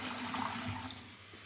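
A kitchen faucet with a just-cleared clogged screen runs steadily, a constant rushing stream of water close by, with no voices over it.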